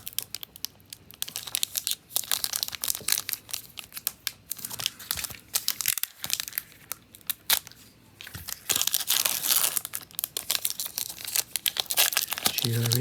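A Pokemon booster pack's foil wrapper crinkles and rips close up in bursts of loud, crackling tearing, with quieter pauses between the crinkles.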